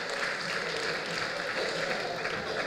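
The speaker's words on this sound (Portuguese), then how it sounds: "Uma salva de palmas para ele." Applause greets a raffle winner at a parish catechism Christmas party on Terceira, steady clapping from a crowd filling the whole moment at moderate level with a faint murmur of voices underneath.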